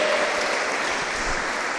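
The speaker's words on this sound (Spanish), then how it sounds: "Démosle fuerte las palmas al Todopoderoso." A church congregation claps loudly and continuously in praise during a worship service, a dense, steady wash of many hands with no clear breaks.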